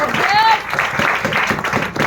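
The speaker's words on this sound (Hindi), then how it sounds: "उनके लिए भी एक बार जोरदार ताली चाहिए" An audience claps loudly and continuously at a speech event, with a faint whistle and crowd noise mixed in.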